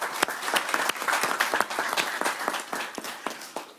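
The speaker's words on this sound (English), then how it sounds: "I'm going to clap again" Applause fills a board of trustees meeting, many hands clapping in a dense, steady patter with sharp individual claps standing out, fairly close and continuing without talk.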